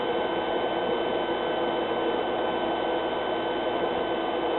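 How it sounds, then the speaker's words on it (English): A spindle sander runs with a vacuum cleaner attached to catch sawdust, giving a steady, dense whirring drone with constant loudness throughout and no voices. "This is where this sander works really nice, because it actually really catches the sawdust coming off the top of the spindle."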